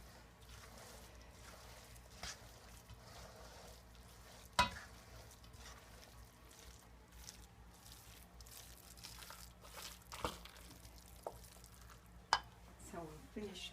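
Rice being stirred into hot turkey dressing in a pan gives a soft, quiet sizzle with scattered spoon scrapes and clicks, and a few sharper knocks stand out.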